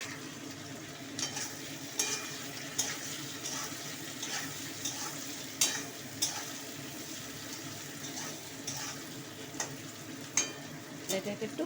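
Capsicum and onion frying in oil for chilli chicken, a soft continuous sizzle broken by repeated sharp scrapes and clinks as a spatula stirs the pan at irregular intervals.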